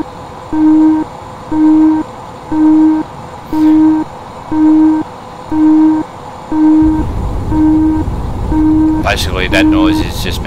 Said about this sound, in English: that noise is just me pulling back on me thrusters